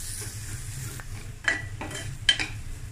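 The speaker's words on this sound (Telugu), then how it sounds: "ఒక్కసారి ఈ ఉల్లిపాయతో పాటు ఈ మసాలాలు కూడా వేగితే బాగుంటుంది." Onion and masala spices sizzle softly in a pan, with a few scraping stirs of a utensil against the pan, close and low in level.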